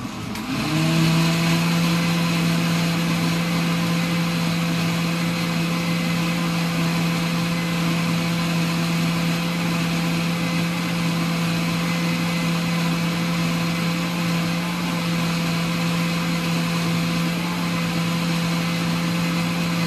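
A blender grinds chile for chicken mole in a steady, loud whirring drone that starts after a brief moment and runs unbroken to the end, with no talking.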